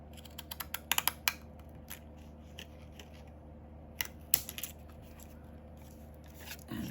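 Scissors snipping through masterboard paper for junk-journal ephemera, a quick run of sharp close cuts early, a pause, then a few more snips against a quiet room hum.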